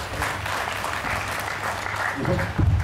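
Guests at a family get-together give a round of applause, steady clapping through most of the moment, with a voice briefly rising near the end.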